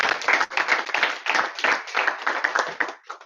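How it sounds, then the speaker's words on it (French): A group applauds at a Toastmasters club meeting with dense, steady clapping close by that continues without pause for a few seconds, then begins to thin out at the end. "Donc vous pouvez nous applaudir."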